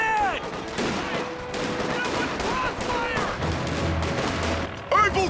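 Incoming gunfire and artillery in Company of Heroes 2, a continuous loud barrage of rifle and machine-gun bursts, whizzing shells and booms, with shouted voices mixed in.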